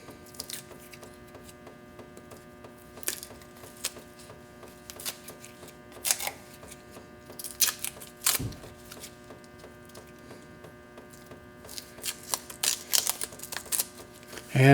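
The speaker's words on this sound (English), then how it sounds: "Now we're going to untape it." Masking tape peeled off a Sako rifle extractor in short, ragged tearing bursts, irregular and close, over a steady electrical hum in a quiet workshop.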